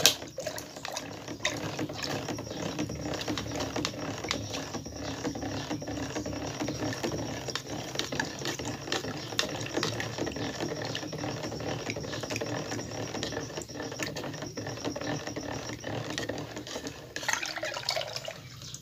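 Ice candy mixture with water being stirred in a container, giving a continuous busy scraping and sloshing with rattling clicks, steady and close throughout, no talking.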